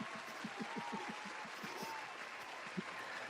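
A canned applause sound effect plays quietly during an online sports talk show, a thin, even patter of clapping with a faint murmur beneath it.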